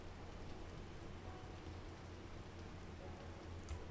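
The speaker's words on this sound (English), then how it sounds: "Can you please stop raining?" Steady patter of rain on a surface, a continuous soft wash of drops with a low rumble underneath, no voices.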